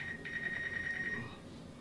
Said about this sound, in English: That's a lot of beeping going on.